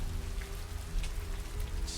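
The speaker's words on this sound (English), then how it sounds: "It's still raining." Steady rain falling in a film scene, a close, continuous hiss of drops on a surface over a low rumbling bed, with no talk.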